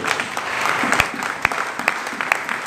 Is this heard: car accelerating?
no